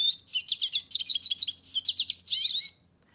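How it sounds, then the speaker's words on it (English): A goldfinch sings a bright, rapid series of high twittering phrases, clear and close, in bursts broken by brief pauses before falling silent. "this is the goldfinch, and he has a pretty song"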